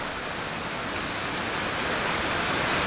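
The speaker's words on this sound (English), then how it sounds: "So I think it's just going to be a small little storm we got coming over." Steady, dense rain pours down during a small passing storm, a constant close hiss on surfaces with no voices.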